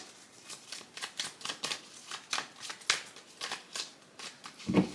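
Tarot cards riffle and slap repeatedly in quick, uneven bursts, close up and fairly soft, with a brief low knock at the end.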